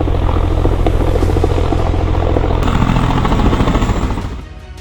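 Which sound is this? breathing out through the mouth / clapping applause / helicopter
helicopter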